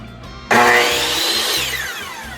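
A Metabo C10FCG compound miter saw motor switches on abruptly and runs loud and close, its whine rising to speed and then easing slightly as it keeps spinning.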